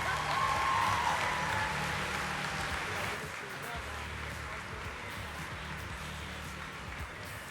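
Steady audience applause fills a room at a construction-industry women's awards night in New South Wales, a dense, even wash of clapping with an excited voice cutting through near the start before it settles into a constant roar.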